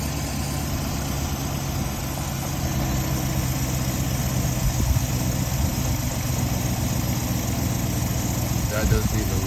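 A Dodge Charger with a 5.7 V8 runs at a steady idle, a continuous low rumble with an air-conditioning compressor hum in an outdoor setting, close and fairly loud, with a brief rise near the end.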